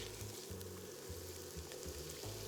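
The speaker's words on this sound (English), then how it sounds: "Stir these through and let them toast and release their fragrant aromas." Spices toast in a pot for a lentil and summer vegetable stew, giving off a faint, steady sizzle and crackle with no talking.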